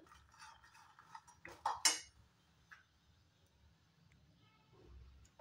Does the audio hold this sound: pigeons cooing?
no